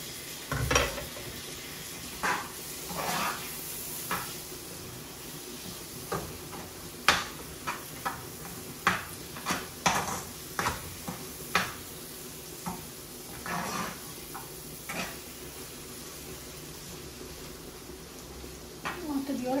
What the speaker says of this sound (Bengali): তো মশলার লগে ভালো করে ভাজা হইব চিংড়ি মাছটা।